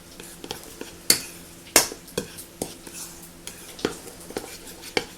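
A utensil stirs dry pancake ingredients in a bowl, giving a series of irregular clinks and scrapes against the bowl, close and fairly crisp, with a couple of sharper knocks.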